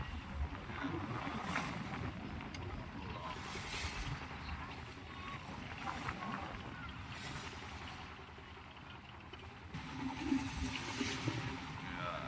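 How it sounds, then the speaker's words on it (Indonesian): Strong wind buffets a boat on a two-hour trip in Tanjung Puting National Park, a continuous rushing hiss with gusting swells over a low engine and water rumble. "Ini anginnya kenceng sebenarnya, guys, ya. Anginnya kenceng sekali, ya."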